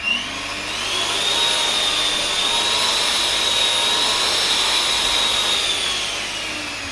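A kitchen gadget's motor runs at turbo speed, a steady, fairly loud high-pitched whir that holds constant for several seconds with no voices.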